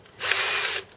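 A drill bores through a metal part for a home-built Gingery milling machine's compound slide, one loud steady high-pitched whine of just over half a second that spins up and then cuts off.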